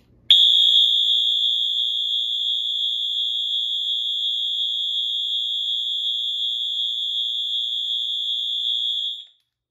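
A Wheelock AS fire alarm horn sounds one continuous, loud, piercing high tone close by, starting abruptly and holding steady for about nine seconds before stopping, with no talking.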